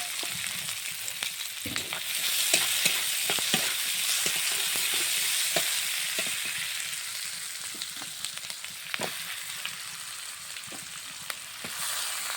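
Green chillies, onion and garlic crackle and sizzle in hot oil in a pan, a constant close frying hiss broken by sharp pops and stirring scrapes, with no talking.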